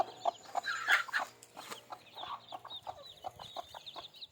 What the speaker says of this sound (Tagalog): Itong mga sisiw. Itong nanay nila.